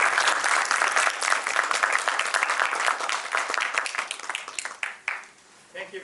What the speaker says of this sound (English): please join me in welcoming Dr. Rakesh A. Jain with a round of warm applause